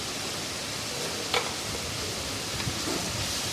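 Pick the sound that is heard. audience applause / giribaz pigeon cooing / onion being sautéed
onion being sautéed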